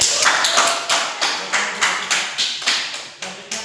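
Small audience in a classroom microteaching session clapping, a close series of sharp, evenly spaced claps about five per second, fairly loud.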